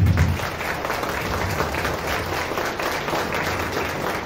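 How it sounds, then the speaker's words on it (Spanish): Audience at a school parents' gathering applauding, a steady, dense round of clapping from a crowd in a hall that holds evenly for several seconds. "Vamos a dar un fuerte aplauso"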